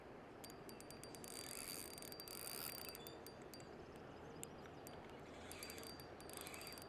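While fishing for suckers in shallow water, a fishing reel's drag is loosened, giving quiet, rapid ratcheting clicks in short bursts over a faint steady outdoor background.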